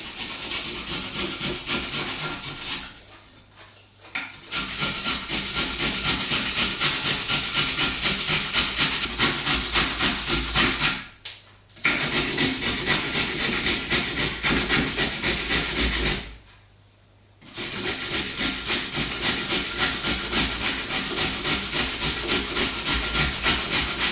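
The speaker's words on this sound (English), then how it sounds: "So you're going to be needing the small part, the very tiny part, and you go ahead to grate." Steady rhythmic rasping of carrots rubbed across the fine side of a grater, loud and close, broken by three short pauses between runs of strokes.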